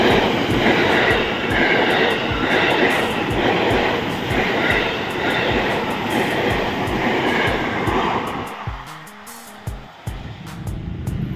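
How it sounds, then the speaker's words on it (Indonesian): A Tokyo Metro 6000 series KRL commuter train pulls away from Cakung station with a loud, steady rumble and rhythmic clacking of wheels over rail joints, easing off and thinning out toward the end. "ada KRL Komuterland Tokyo Metro 6000 series baru saja diberangkatkan dari stasiun Cakung"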